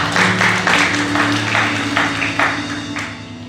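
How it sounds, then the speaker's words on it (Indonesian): Congregation at a GBI church service clapping together in a rhythmic burst, loud and near, over a sustained low musical drone. "Kita berikan tepuk tangan buat Tuhan."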